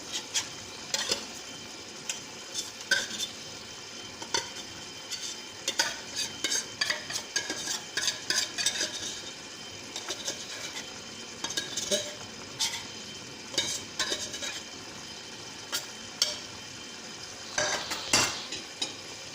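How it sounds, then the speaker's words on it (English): Food frying in a pan on high heat is stirred with a utensil, giving irregular scrapes and clinks against the pan over a steady soft sizzle, close and fairly quiet, with no talk. "Give that a stir. Still at high heat."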